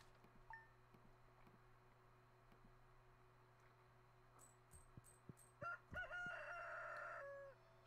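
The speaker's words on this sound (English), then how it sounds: "Are we going to hear that rooster every morning?" A rooster crows loudly near the end after a few short clucks, over a quiet steady hum, in the video game Stardew Valley.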